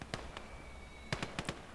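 Distant artillery and cannon fire from tanks and a field gun in the World War II game Call to Arms: Gates of Hell, scattered sharp booms and cracks, a few spaced apart then several in quick succession, no talking.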